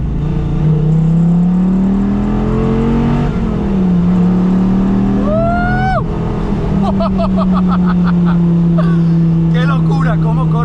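A Dodge Viper GTS engine revs and accelerates loudly up close, its deep droning note rising and falling through several pulls, with people talking over it.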